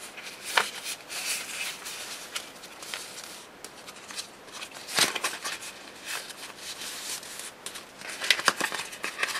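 Paper pages for a handmade mini album being folded and creased by hand, giving soft crinkles and sharper crackling snaps at irregular moments, fairly close and quiet, with no talking.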